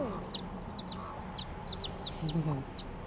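Wild chickens cluck and chirp softly in a series of short calls at a scenic stop near Opaekaa Falls on Kaua'i, with faint low murmuring in the background.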